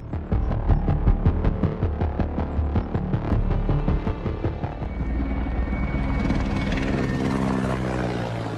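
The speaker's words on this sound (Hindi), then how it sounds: "यूक्रेन के हेलीकॉप्टर्स भी रूसी सैनिकों पर मंडरा रहे हैं।" Ukrainian military helicopter hovering over Russian soldiers, a loud throbbing rotor beat with deep engine hum, pulsing steadily and drawing slightly away as the chop smears into a continuous drone.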